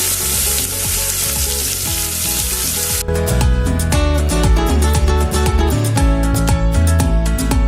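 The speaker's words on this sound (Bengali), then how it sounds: "ভালো করে একটু মশলাপাতিগুলো ভেজে নেব" Ground spices with ginger paste and turmeric sizzle and fry in a pan, a loud continuous crackle broken by repeated scraping stirs, close up and without talk.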